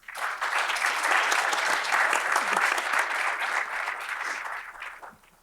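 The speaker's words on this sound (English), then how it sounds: "let's give a round of applause for our panelists" An audience gives a steady round of applause for panelists at a forum on gun violence and youth safety, a dense wash of clapping that holds for several seconds before tapering off.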